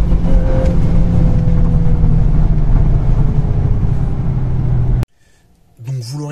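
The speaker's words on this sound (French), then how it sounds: "ce Volkswagen Golf 8R est vraiment un véhicule impressionnant, capable d'envoyer des accélérations fulgurantes" Volkswagen Golf 8R fitted with a Maxton body kit accelerating hard, a loud, close, steady engine roar lasting several seconds before it cuts off abruptly, followed by a brief fainter sound.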